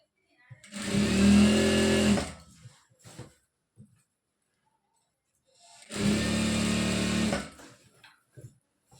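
A domestic sewing machine stitches folded churidar pant fabric in two steady runs of about two seconds each, whirring loudly and close, with brief handling clicks and quiet gaps between the bursts.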